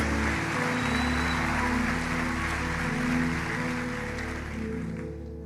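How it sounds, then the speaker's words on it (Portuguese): Congregation in a church applauding for Jesus, a dense, sustained wash of clapping over a low tonal hum, steady and then fading slightly toward the end. "Aí aplauda Jesus"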